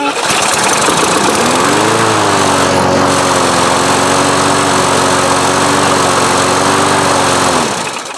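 A Craftsman push mower engine fires up and settles into a loud, steady running drone close by. Its pitch rises briefly as it catches, then holds even until the engine dies away at the end.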